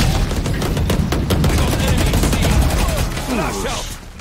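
Loud, close weapon fire in a Valorant match on the Haven map, playing Cypher: dense rapid bursts of shots and impacts run almost continuously, fading slightly at the end.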